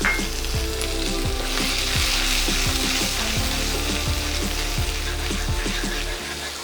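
Capsicum, tomato, diced onion and paneer sauté in a kadhai with a constant loud oily sizzle, broken by repeated scraping stirs of a spoon against the pan at a steady rhythm.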